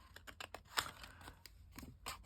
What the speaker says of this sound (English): get myself roughly a good start so that you can get your scissors in